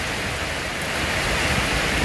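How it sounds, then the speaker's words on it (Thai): Steady rain falling outdoors on a cool day in Vientiane, a dense continuous broadband hiss with no breaks, fairly loud and close, no voices. "วันนี้ฝนตก"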